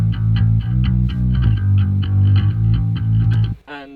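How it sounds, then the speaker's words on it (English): An electric bass plays a groovy rock verse line alone, deep repeated notes in a steady bouncing rhythm, loud and close, ending with a brief sliding squeak. "we decided to go and add an electric bass"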